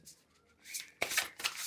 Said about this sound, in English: shuffling, as I expected, is a bit of a challenge with this deck